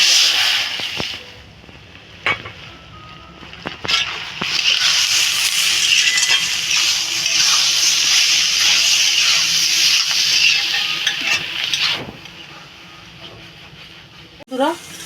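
Mustard tempering in hot ghee sizzles loudly as it is poured over a tangy beetroot and shrimp dish, a steady bright hiss lasting several seconds with a few clinks, then fading.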